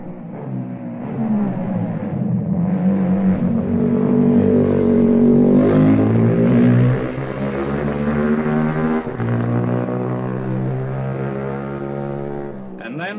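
250cc racing motorcycle ridden by Tarquinio Provini through Manx Arms corner on the Isle of Man, its engine a loud, buzzing, rising and falling drone that swells past close by, shifts pitch, and carries on steadily.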